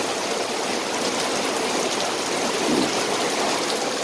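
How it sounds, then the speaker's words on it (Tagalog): Continuous heavy typhoon downpour over a flooded subdivision street in Mabuhay Golden City, a dense, even roar of rain and flowing water with no voices, steady and close throughout. "Walang tigil ang ulan."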